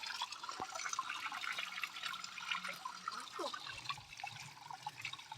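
Steady rushing and splashing of a mountain waterfall fills the background, with occasional drips and light knocks close by.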